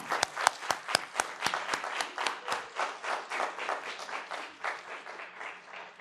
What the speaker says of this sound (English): I would like for my fellow members to give a round of applause to those professors and staff